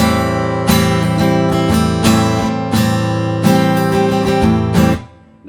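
Strummed guitar chords ring out loud and close, each change landing squarely on the beat, sustaining fully before fading at the end.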